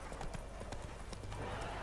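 Repeated horse hoof clip-clops at a steady trotting rhythm in the video game The Witcher 3, fairly close, over a continuous low background hum.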